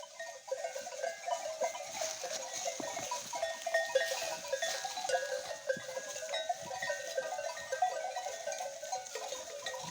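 Sheep bleating in a busy flock, overlapping calls at middle distance over a constant rustling outdoor background.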